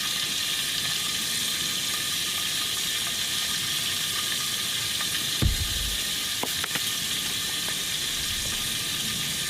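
Fresh shore-caught mackerel fillets seasoned with salt, pepper and paprika fry in a pan, a steady loud sizzle throughout with a brief clatter midway, close and without talk.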